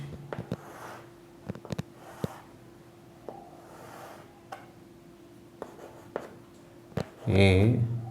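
Marker or chalk strokes sketch a right triangle on a board in short, sharp scratches and longer rubbing lines, close and moderately quiet, with a voice speaking briefly near the end.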